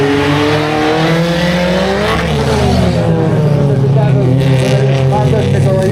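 Audi rally race cars rev and accelerate off the start, engine pitch rising and sweeping continuously, with a commentator talking over the noise throughout.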